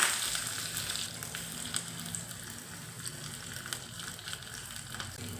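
Mustard seeds, curry leaves and garlic sizzle in hot oil as a tempering for vegetable sambar, a soft, steady crackle and hiss close by with faint pops and no talking.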